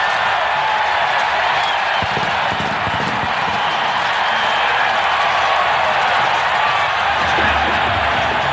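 Stadium crowd roaring steadily at Super Bowl XXX, Pittsburgh Steelers against Dallas Cowboys, a dense, sustained wash of cheering that stays loud and unbroken throughout.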